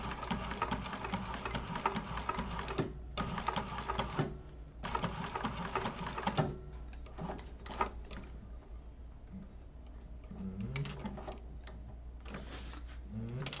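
A sewing machine runs in bursts, top stitching a wallet flap, its rapid needle ticking close and steady, broken by short pauses and a low hum underneath.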